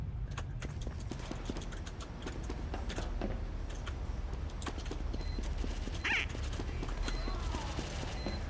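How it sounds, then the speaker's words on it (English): Rapid footsteps in the video game Team Fortress 2 patter continuously at moderate level amid dense in-game clatter and effects, with a brief sharp burst partway through. "Listen for footsteps."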